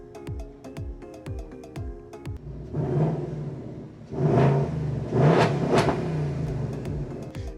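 A Ford Mustang starts from its remote starter: a run of sharp fob clicks, then the engine catches and rumbles, swelling through several revving surges nearby with no one talking.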